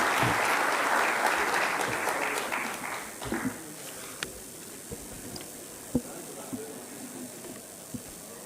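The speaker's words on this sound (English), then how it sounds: "we all need a big round of applause, but today it is Women's Day and we need to hear it a little louder" A summit audience at the Westin Hyderabad gives loud, dense applause on Women's Day. It fades after a few seconds into a handful of scattered, isolated claps.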